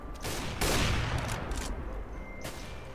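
A no-scope sniper shot and surrounding gunfire in CS:GO, with a loud burst of shots early on followed by a sustained rattle of gunfire and another sharp shot near the end.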